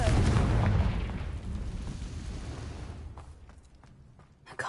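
A Confringo spell blast in the video game Hogwarts Legacy: a loud, booming explosion opens and rumbles away over a few seconds, followed by a quieter stretch and a fresh impact at the very end.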